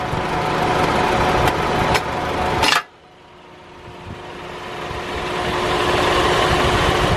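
A Honda Civic engine idles steadily with clicking from the A/C compressor clutch, then a sharp burst of noise cuts off abruptly and the idle gradually builds back up.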